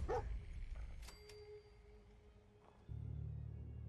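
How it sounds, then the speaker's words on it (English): A dog in Fallout 4 gives a few short yips and whimpers up close, and a low rumble of ambience follows. "Greet the dog."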